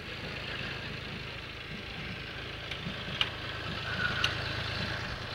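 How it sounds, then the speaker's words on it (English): An old tractor engine idles steadily in a homecoming parade, a low continuous rumble with a few faint clicks and knocks, no talk over it. "And Mike is uh, driving the old tractor there, I guess"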